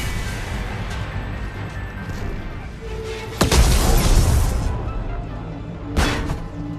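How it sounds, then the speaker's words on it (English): Explosions rock a starship under fire from an enemy fleet in the sci-fi game Mass Effect 3, with a heavy booming burst mid-clip and a second impact shortly after, over a low rumbling background and some speech. "the Creator Fleet is firing upon this vessel"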